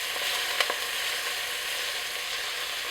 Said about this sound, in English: I've got a pan on a high heat and I've got a couple of tablespoons of oil in, and then I'm just going to brown.